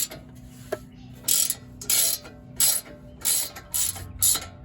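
A wrench ratchets a 22mm bolt on the front wheel hub of an Infiniti M37/M56/Q70, giving six distinct bursts of rapid clicking spaced about half a second apart, close and clear over a low background hum.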